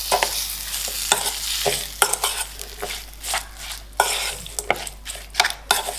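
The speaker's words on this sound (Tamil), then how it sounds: "இப்போ இதில் தாளிப்பை வந்து நம்ம அந்த உருளைக்கிழங்கோடு சேர்த்து நல்லா மிக்ஸ் பண்ணி விட்டுடலாம்" Tempering stirred into mashed potato in a pan for potato bonda, with repeated scraping strokes and soft sizzling that rise and fall close by, no voices.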